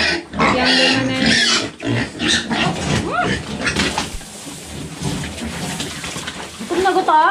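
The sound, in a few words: mother pig on a farm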